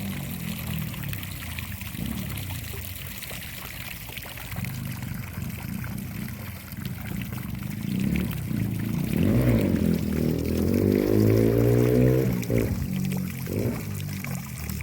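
Water from a well pours steadily in a continuous splashing stream, near and fairly loud, growing fuller and louder in the second half with a gurgling, bubbling texture.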